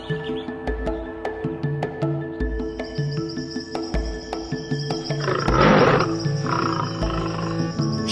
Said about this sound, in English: Shere Khan is a man-eating Bengal tiger with massive strength.